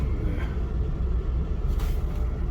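A bus rumbles at low idle as it pulls up to a stop on Crichton Street for a pickup, with a short hiss of air brakes releasing near the end.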